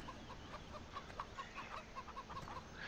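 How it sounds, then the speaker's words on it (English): Chickens clucking and a rooster in a Farming Simulator 17 farmyard, a steady stream of short repeated clucks at moderate distance over a constant background hiss, with no one talking. "Chickens, rooster."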